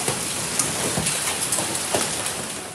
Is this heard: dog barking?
no